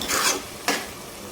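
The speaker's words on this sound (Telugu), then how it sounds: "కారం వేసిన తర్వాత ఒకసారి కర్రీ అంతా ఈ విధంగా కలుపుకోవాలి." Spinach and chukkakura curry seasoned with a spoon of chilli powder is stirred in a pan, giving two brief scraping swishes of the spoon against the metal with a soft sizzle beneath, close and moderately loud.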